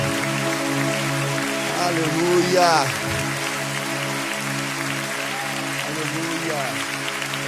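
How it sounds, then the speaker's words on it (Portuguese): A church congregation claps steadily in worship while a voice speaks and calls out over the sustained applause, with soft music underneath. "Você pode aplaudir ao Senhor."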